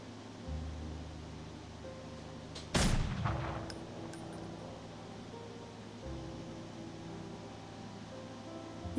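Gunfire in a video game: one loud, booming shot with a long rumbling decay, followed by a few faint sharp cracks, set against a steady low hum and soft background tones.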